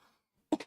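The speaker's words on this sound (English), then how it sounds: "Had to clear my throat." A brief throat clear, two quick rough bursts close to the mic after a stretch of near silence.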